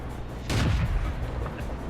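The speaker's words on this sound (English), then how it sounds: "This tank has such a fast rate of fire and so much ammo" A tank cannon fires once in the World of Tanks video game, a single loud, close boom with a short rumbling tail.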